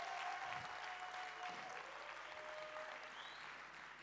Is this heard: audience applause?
yes